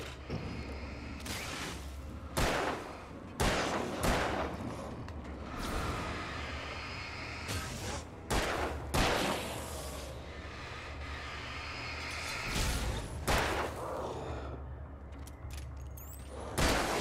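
Gunshots in the Xbox game Alan Wake, a handful of sharp, loud bangs at irregular intervals over a rumbling, droning background, with no voices.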